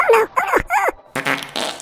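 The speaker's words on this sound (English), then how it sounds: "That was not just a fart, that was too fucking wet." A wet, sputtering fart sound effect from the strategy game World Conqueror 3 plays as several loud, squelchy bursts, the first three warbling and pitched, followed by a noisier, rougher trailing blast.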